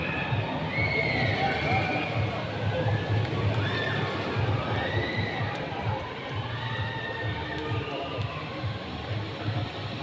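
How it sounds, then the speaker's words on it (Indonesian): A crowd at a youth football event at Dufan, Ancol, Jakarta, applauds and cheers in a continuous roar lasting ten seconds, with shrill voices rising above the steady clapping. "mari beri aplaus pada Bapak Asep Sumayadi dan Bapak Renan"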